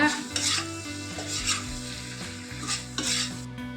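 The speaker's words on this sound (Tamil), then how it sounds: "உருளைக்கிழங்கு பட்டாணி சேர்த்துக்கலாம். இப்போ நல்லா கலரி விட்டுருங்க." A spoon scrapes and stirs fried potatoes and peas in a sizzling pan, with several strokes in quick succession over a steady frying hiss.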